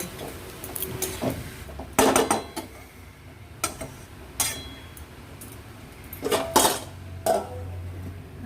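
A lid is set onto a pan of cabbage and coconut vegetable curry: several close metallic clinks and knocks, with a couple of louder clatters spaced between quiet pauses.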